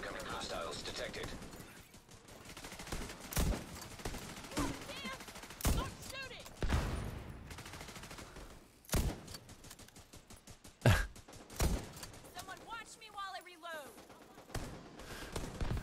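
Video game gunfire in The Division: sharp bursts of shots and rapid automatic fire scattered irregularly across the scene, some loud and close, others fainter, with voices talking between the volleys.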